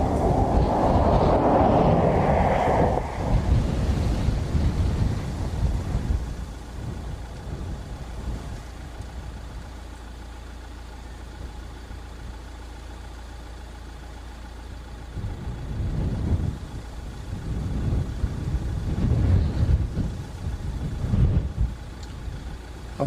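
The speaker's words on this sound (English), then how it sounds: "we do have an A330 from Boston just about to land" An Airbus A330 arriving from Boston and landing at Dublin Airport, heard as a broad low engine roar that is loud at first, fades to a distant rumble and then swells again, with no voices.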